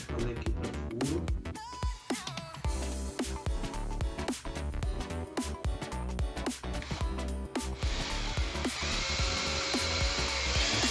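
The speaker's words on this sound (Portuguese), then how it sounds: "Vou fazer aqui o pré-furo." An electric drill bores a pilot hole into wood to fit feet on a double wardrobe, its motor whining steadily and biting harder near the end, with busy clattering background noise throughout.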